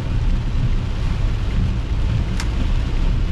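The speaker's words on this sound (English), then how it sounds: "I don't think I've ever seen rain like this." A downpour of heavy rain makes a loud, unbroken wash of noise with a deep rumbling undertone, heard alone without speech.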